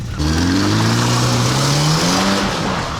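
A car engine that has just stalled restarts and revs, its pitch climbing steadily for a few seconds, loud and close, with no talk over it.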